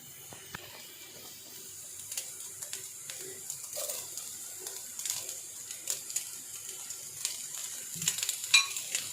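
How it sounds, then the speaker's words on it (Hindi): Chicken and carrots stir-fry quietly in a pan for a sandwich filling, a faint soft sizzle with occasional light clinks and scrapes of the spatula. "एक मिनट गाजर को फ्राई किया। अब चिकन डालेंगे"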